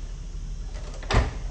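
A floor-to-ceiling door in a single-family house closing against a magnetic catch, one soft thud over steady background noise.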